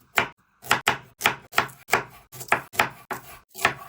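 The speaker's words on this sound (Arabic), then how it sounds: "راح نقطع البصل شرايح مثل ما تشوفون، والجزر هم راح نقطعها شرايح" A knife slices onion and carrot on a cutting board in about nine sharp, evenly spaced chops, close and loud, with no talk.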